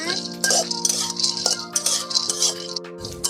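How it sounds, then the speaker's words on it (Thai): Peanuts dry-roasting in a pan give close, irregular rattling and scraping bursts as they are stirred, with a steady tonal drone underneath. "แล้วเราก็เอาถั่วลิสงมาคั่วกันก่อนนะจ๊ะ"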